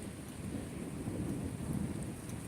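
Heavy rain pours steadily during a thunderstorm, with low rumbling thunder rolling underneath, a dense, continuous wash of sound with no talk.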